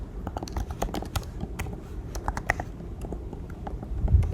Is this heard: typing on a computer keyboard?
yes